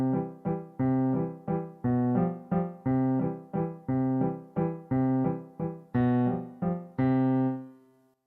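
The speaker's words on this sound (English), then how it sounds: "Triple meter often uses what's called a waltz bass," A waltz bass pattern in triple meter repeats as a low bass note followed by two lighter chords, a clear oom-pah-pah piano-like rhythm that closes on a sustained final chord.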